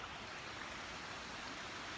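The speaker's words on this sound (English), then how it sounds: "You can hear the river behind me." Rain-swollen water pours down from the hills along a path in the south of France, a dense, constant rushing flow, close and uniform with no talking.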